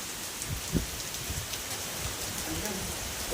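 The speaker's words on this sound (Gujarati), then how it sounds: "ફાઇનલી જોઈ લો આવો વરસાદ ચાલુ થઈ ગયો" Steady rain patters on surfaces in a dense, even hiss, with faint voices now and then.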